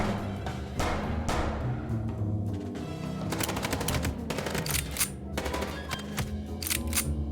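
Rapid bursts of gunfire during a car chase in the Chicken Police video game, loud and sustained with dense automatic volleys and sharp repeated shots over a driving background, no talk.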